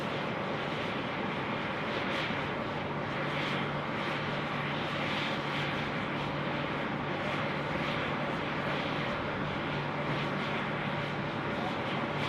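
An airliner on approach to land on runway 34 left at Sydney Airport makes a steady, broad jet roar with a low hum, continuous and fairly distant for the whole stretch.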